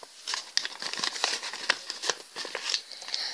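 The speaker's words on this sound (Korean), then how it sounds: "여기를 삼각형으로 딱 접어줍니다." Paper crinkles and creases sharply while being folded into a triangle for an origami church, a close run of dry rustles and crisp snaps with no voice.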